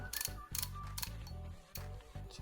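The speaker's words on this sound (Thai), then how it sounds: "ผมจะเทสทาม์เมอร์" A Nikon FM2 film camera's self-timer mechanism whirs and ratchets up close, with a dense gear buzz in several bursts and brief pauses between them.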